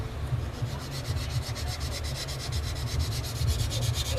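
Flexible sanding tape rubs back and forth over a plastic model kit part in a quick, even rhythm of close, scratchy strokes, continuous and alone without any talking.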